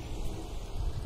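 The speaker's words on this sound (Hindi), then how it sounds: "बस बूंदे गिर रही हैं, बूंदे ही गिर रही हैं, बस बारिश" Rain falling steadily in the mountains near a stone temple, a continuous soft patter of drops with low rumbling wash underneath, fairly close and unbroken, with no one speaking.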